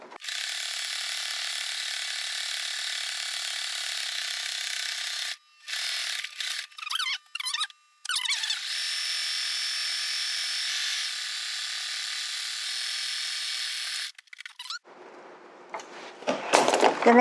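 A sewing machine stitching a folded strap onto a fabric bag, a loud, close, rapid mechanical whir that runs steadily, stutters through a few short bursts and stops, then runs again before ending in handling rustle.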